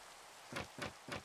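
Steady hiss of Minecraft rain falling over a forest, a soft, constant wash broken by three evenly spaced louder swells, with no voices.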